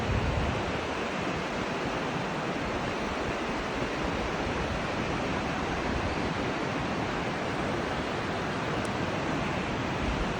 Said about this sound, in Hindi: वो स्रोत आ रहा है ऊपर से, देखो पानी कितने टोप दे कर आ रहा है